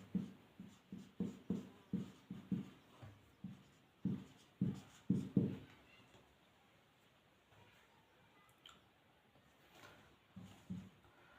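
A pen scratches across paper in close, rhythmic strokes while a trigonometric identity is written out by hand. Quick bursts of strokes come in two runs, then a quieter pause follows before a few more marks are made.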